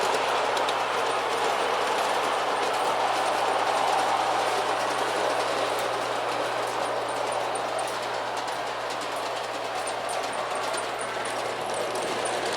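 LGB model trains run on a small automatic demonstration layout, making a continuous rolling whir with faint rhythmic clicking over the track joints, steady and fairly quiet with no talk.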